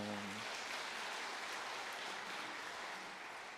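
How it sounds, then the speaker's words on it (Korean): Applause from a church congregation at an elder retirement service, a steady dense patter of many hands filling the room, briefly under a voice at the very start before continuing alone. "박수하겠습니다"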